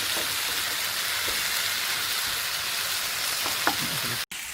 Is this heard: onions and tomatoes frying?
yes